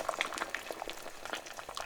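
Water with onion skins boils in a pot on the stove, a steady, dense crackle of bursting bubbles with sharp little pops scattered throughout, close and continuous without any voices.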